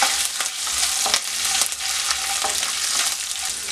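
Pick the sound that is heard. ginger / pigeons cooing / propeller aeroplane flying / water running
ginger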